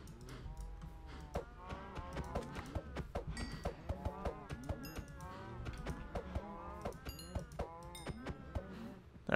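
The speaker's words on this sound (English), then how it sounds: "I'm not trying to hit the baby cows" Cows mooing in the Minecraft video game, several overlapping drawn-out moos in a steady run, close and clear, with clanking tones mixed in.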